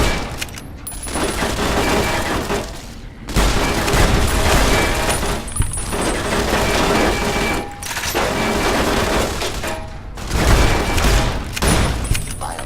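Ceiling turrets fire in Fallout: New Vegas, loud sustained bursts of rapid gunfire with booming impacts. Brief gaps break the firing, and a voice is faintly heard beneath the din.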